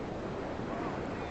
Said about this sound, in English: The ocean here, these waves here are absolutely crazy.